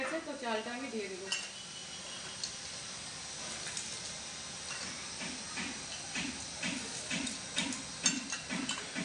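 Rice tipped into a pot of hot water with a little white oil for chicken biryani, giving a scatter of clinks and rattles against the metal pot over a low, steady background.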